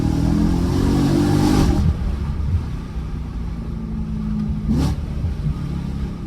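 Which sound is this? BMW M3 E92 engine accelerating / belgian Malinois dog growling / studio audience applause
BMW M3 E92 engine accelerating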